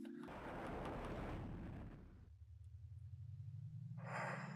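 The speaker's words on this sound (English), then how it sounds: "God, big yawn." A long, tired human yawn, a loud drawn-out breathy exhale that slides into a low voiced groan, with a brief higher tone near the end; no words are spoken.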